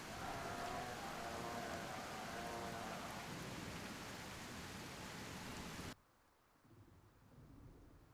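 Heavy rain pours steadily during a storm in a dinosaur survival video game, a dense hiss with faint thunder, then it cuts abruptly to a much quieter, softer patter.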